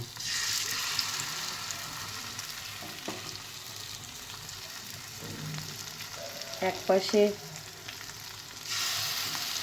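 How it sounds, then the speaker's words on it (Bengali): Spices for a lentil tempering sizzle steadily in hot oil in a pan, with some stirring and brief utensil clinks near the end. A voice speaks softly at one point. "তোমার ডালের মশলাটাও ভাজছি ফোড়নের"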